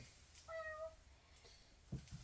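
A wet kitten gives a single short, faint meow, followed by a couple of soft bumps in an otherwise quiet room.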